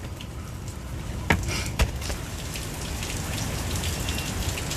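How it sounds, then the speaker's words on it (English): Wind-driven rain patters steadily on surfaces nearby, a dense continuous wash with two sharp knocks partway through. "We got a lot of wind blowing rain right now"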